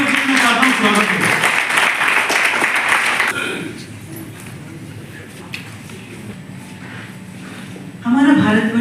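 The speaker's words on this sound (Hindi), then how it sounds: "सोनाली शर्मा जी का एक बार जोरदार तालियों से मैं चाहता हूँ स्वागत करें" Loud audience applause welcoming Sonali Sharma onto the stage at an event, a dense burst of clapping that drops away midway, then briefly resumes at the end.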